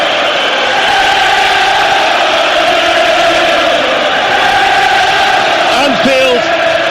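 Dense football crowd roar at Anfield during a Liverpool versus Barcelona match, a loud continuous wall of chanting and singing that swells steadily, with a brief whistle-like whoop near the end.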